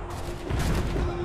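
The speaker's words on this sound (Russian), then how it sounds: "здесь так бабахают они, вообще ничего не слышно" Cannon and gunfire boom continuously in an Assassin's Creed III battle, a dense rumbling barrage that swells louder after the first half second.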